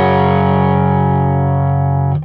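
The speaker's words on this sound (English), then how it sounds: "That's the guitar. That's a great straight sound. Straight into the amplifier." Electric guitar plugged straight into an amplifier with no pedals, a loud sustained chord ringing out with a rich, slightly driven amp tone and slowly decaying before a brief pick or string noise at the end.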